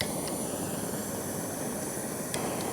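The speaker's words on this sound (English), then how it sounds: "I'm going to fire up a couple torches." A couple of torches burning with a steady, broadband roaring hiss that holds at a constant level throughout, close by, with no talking.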